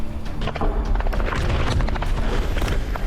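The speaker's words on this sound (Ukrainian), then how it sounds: "Граната!" A loud, close grenade blast at a combat position near Bakhmut, heard as a dense, sustained boom and rumble that fills the whole moment with heavy low-end roar and crackle.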